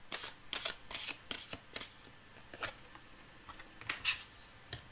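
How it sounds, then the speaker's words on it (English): Tarot cards are shuffled in a series of quick riffling bursts, crisp papery flutters repeating irregularly and fairly close. "I'm just going to go ahead and shuffle these cards for one more card."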